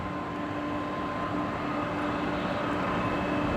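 A Qatar Airways airliner at Brisbane Airport gives off a steady, sustained jet roar with a faint tonal whine, constant in level and heard from a moderate distance, with no voices.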